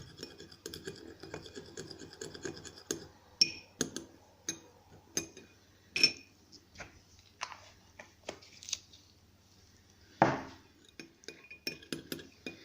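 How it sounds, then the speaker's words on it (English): A metal spoon stirs colouring into essential oil for a homemade bath bomb, making quiet, irregular clinks and scrapes against a small container, with scattered sharper taps and no talking. "So I'm gonna use my back of my spoon for a little bit coloring. I'm gonna mix it with my essential oil."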